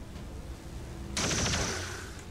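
Gunfire in XCOM 2 erupts about halfway in: a sharp burst of several rapid shots over low game ambience, loud and close, then trailing off as the echo decays.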